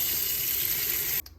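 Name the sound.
water poured into PUR water dispenser filter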